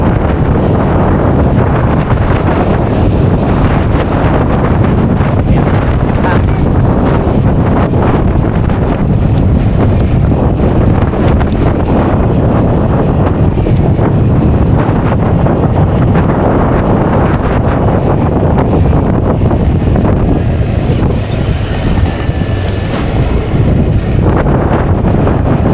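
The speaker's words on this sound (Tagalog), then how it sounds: "Kapag humpas yung isang matinding humpas na hangin, tinatangay tayo." Strong wind gusts on a boat roar across the microphone for the whole stretch, a dense, loud, continuous buffeting with surging peaks and no voices.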